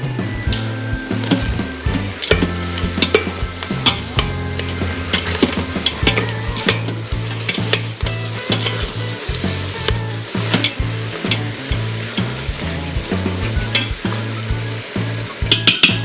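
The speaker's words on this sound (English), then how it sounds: "I'm going to give this a nice stir" Curry goat stirred in an Instant Pot, a loud continuous sizzle with repeated scraping and clattering strokes of a spoon against the pot, close and busy throughout, no voices.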